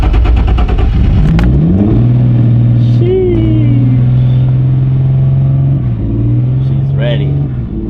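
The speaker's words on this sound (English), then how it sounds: "Get this cold start for you guys." A Turbo Z car engine on a cold start, cranking and catching with a rising rev, then settling into a loud, steady high idle with a couple of blips, up close throughout.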